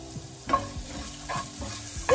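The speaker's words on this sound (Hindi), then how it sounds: "इसको हमें प्याज को ज़्यादा ब्राउन नहीं करना है, इसको जस्ट लाइक थोड़ा सा जैसे वो पिंकिश कलर आ जाता है उतने तक होने तक हमें इसको पकाना है।" Onions sautéing in a pan, a soft continuous sizzle with a few scraping stirs at irregular intervals, heard close up with no talking.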